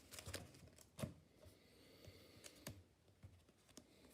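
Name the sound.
shuffling a Pokémon card deck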